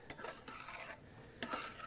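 Garlic and juice stirred in a cooking pan, soft scraping and light clinks of a utensil in a few quick strokes, faint and close.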